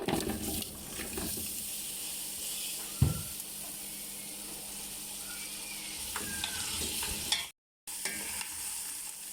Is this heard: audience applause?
no